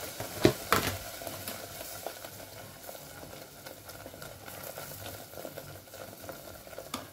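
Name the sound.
masala with turmeric frying for mushroom curry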